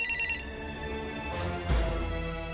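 A phone rings late at night, a few quick electronic trills at the start, then a low hum with a soft thump and lingering tones, no voices.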